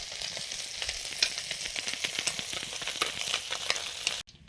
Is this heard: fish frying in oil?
yes